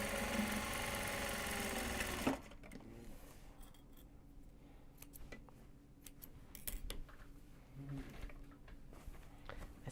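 A sewing machine stitching Japanese fabric large box bags runs briefly and loudly at first, then stops, leaving faint clicks, handling noises and soft taps close by.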